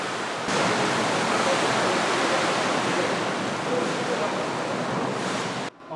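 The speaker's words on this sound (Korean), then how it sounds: "밀려온 파도는 여지없이 방파제를 넘고 만다." Loud, continuous roar of simulated 6-metre typhoon-height waves surging and crashing over a model breakwater in a wave test, a dense wash of water noise that cuts off abruptly near the end.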